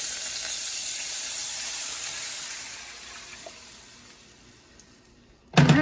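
Water hits a hot frying pan while kafta with potatoes is being prepared, bursting into a loud hiss that fades steadily over about five seconds. A sharp clatter follows at the end.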